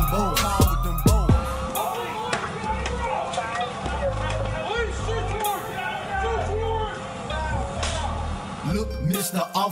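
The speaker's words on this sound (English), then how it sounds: "Then I hear sirens" Wailing sirens rise and fall over a heavy beat and rapped vocals, part of a music track rather than a live street scene.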